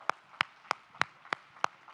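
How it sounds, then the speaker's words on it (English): Clapping at a conference session for women's careers comes as a slow, even series of about seven sharp claps, each cleanly separated, near and distinct over a quiet room with no talk. "Give them a round of applause."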